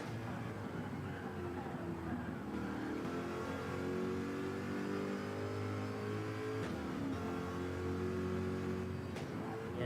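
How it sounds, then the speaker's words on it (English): A Corvette supercar engine in a racing video game drones at low revs on a circuit, a steady rumbling hum with small rises in pitch and a couple of brief clicks, loud and continuous. "it definitely sounds like a fair amount of low revs here"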